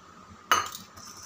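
A metal pan set down on a kitchen stove while cooking begins, one sharp clinking clatter with a brief ring that fades quickly.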